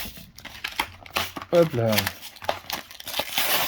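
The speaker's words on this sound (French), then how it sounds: "on les déchire à l'arrache" Pokémon card tripack packaging is ripped open by hand in quick crinkling, tearing bursts of plastic, close to the microphone, while a person talks over it.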